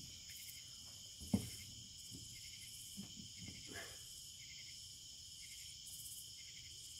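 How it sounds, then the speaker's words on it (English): Crickets and other insects chirp in a steady, continuous outdoor chorus at night beside water during catfish fishing, with a few faint thumps and handling noises close by and no talking. "Bugs everywhere."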